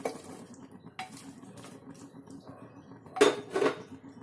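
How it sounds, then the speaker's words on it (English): Diced pumpkin is tipped into a cooking pot of cooked dal, giving two soft, close thuds and clatters after a stretch of quiet kitchen clinks. "Then we will put the diced pumpkin."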